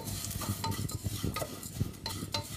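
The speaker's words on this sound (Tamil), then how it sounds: "இன்னொரு பேனில் ஒரு 1/4 ஸ்பூன் நெய் ஊற்றி சேமியா லேசாக வதக்கி" Vermicelli being stirred and lightly sautéed in ghee in a pan, with a soft sizzle under repeated scraping and clinking strokes of a spoon against the pan, close up and steady, no talking.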